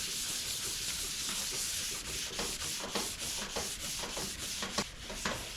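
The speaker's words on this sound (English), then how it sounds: "we're going to get into that right now with our 3M 400 grit sandpaper." A car trunk lid's paint is hand-sanded with 3M 400 grit sandpaper on a 1996 Mercedes SL500 R129, a steady close rasping hiss with repeated long strokes slightly marking the rhythm.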